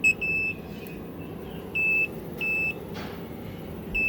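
A car diagnostic scan tool emits a high electronic beep in short bursts at irregular intervals, warning of low 11.4-volt battery voltage on a 2000 GMC Sierra, over a low background hum, fairly close and clear.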